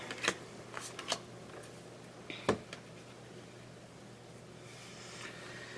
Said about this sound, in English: I was trying to shuffle this card back into the deck.